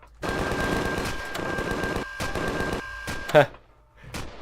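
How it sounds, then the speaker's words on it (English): Rapid bursts of automatic gunfire from the video game Empyrion, coming from outdoors in loud sustained volleys, broken by short gaps and a sharper crack near the end. "What am I hearing shooting?"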